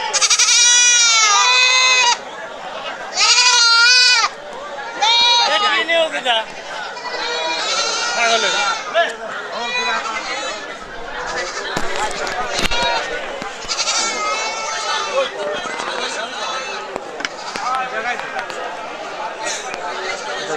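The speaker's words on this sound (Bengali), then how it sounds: "খালি ছাগল আর ছাগল আপনাদের দেখাচ্ছি" Many goats bleat loudly and repeatedly, overlapping in a busy crowd of animals at a livestock market, with a constant hubbub of chatter behind them.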